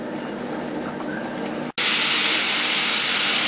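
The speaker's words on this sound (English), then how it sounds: "I have my wings in. I'm going to let that batch fry." A batch of chicken wings deep-fries in hot oil in a pot. After a brief gap, a loud, steady, close sizzle and hiss fills the rest of the clip, and no one speaks.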